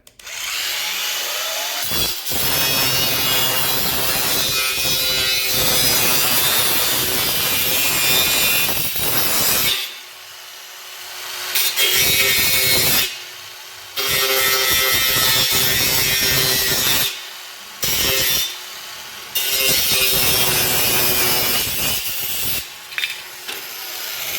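An 18V Ozito cordless angle grinder cuts through metal roof cladding with a loud, sustained abrasive screech, broken by several short pauses as the blade stops and restarts.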